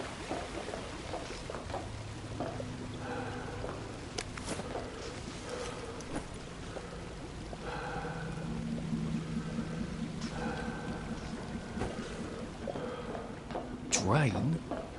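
Chemicals being flushed down a drain in We Happy Few, a running, pouring rush of liquid that swells and fades against droning machinery, under a voice talking.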